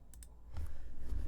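Mouse clicks while playing the ant colony game Empires of the Undergrowth, a quick double click then a couple of faint clicks over low room noise.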